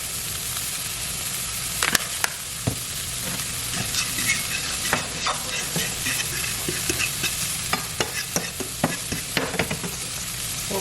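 Shrimp sizzling steadily in a hot pan for Cajun shrimp and grits, a continuous frying crackle with occasional sharper pops and scrapes of stirring, close and fairly loud, no talking.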